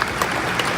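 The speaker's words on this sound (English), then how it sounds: "we owe a great deal of applause" A short burst of audience applause at a Star Trek convention panel in Birmingham, a brief crackle of many hands fading quickly.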